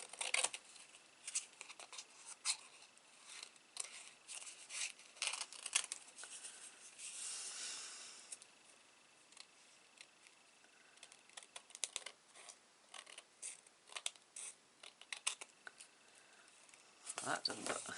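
Small scissors trimming card stock, a series of quiet close snips and paper rustles coming in short irregular bursts, faint overall.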